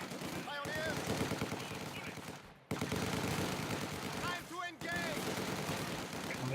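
Sustained machine gun fire from the World War II strategy game Company of Heroes 2, loud repeated bursts with brief pauses between them, mixed with other battle noise and people talking over it.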